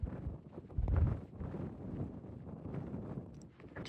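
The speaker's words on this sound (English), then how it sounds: "It's super windy though" Steady gusty wind buffets the microphone at Big Bend Ranch State Park, a rough broadband roar with a stronger surge near the one-second mark, close and loud, with no talking.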